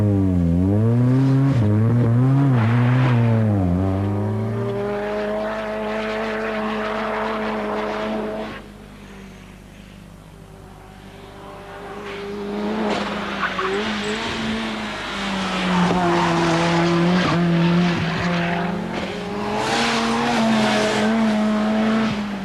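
A 1989 Group A racing car laps a track with its engine loud and close, pitch rising and falling through gear changes, a brief lift-off midway, then hard acceleration again, no talking.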